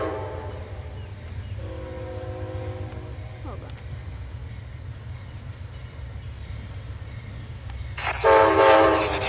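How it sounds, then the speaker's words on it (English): A westbound Amtrak train rumbles past at Point of Rocks with a steady heavy low roar, sounding a loud sustained horn blast at the end that rises over the continuous rail noise. "We have a westbound train coming too."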